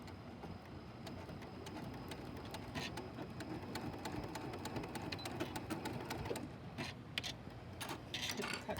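A sewing machine back-stitches the binding on a tree skirt, a faint steady mechanical whir and rattle with soft clicks of the mechanism.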